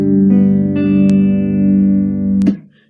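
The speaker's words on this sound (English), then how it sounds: "It's tuned in open G, which sounds like this." A guitar in open G tuning rings out as one sustained strummed chord with layered harmonic overtones. A couple of sharp attacks occur partway through, then it is cut off abruptly near the end.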